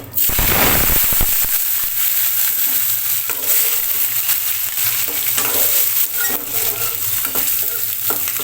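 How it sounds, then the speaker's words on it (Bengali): Boiled potatoes hit hot oil with a loud crackling burst, then fry in a strong, steady sizzle while a spoon stirs them with repeated scrapes. "এখন ভালো করে নেড়ে চেড়ে নিব তেলের সঙ্গে আলুটাকে একটু ভাজা ভাজা করে নেবো"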